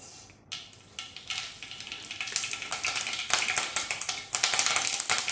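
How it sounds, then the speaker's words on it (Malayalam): Mustard seeds splutter in hot oil while mango pickle is being made, sharp popping crackles starting sparse and quickly growing denser and louder, close and alone. "കടുക് പൊട്ടി വരുമ്പോൾ"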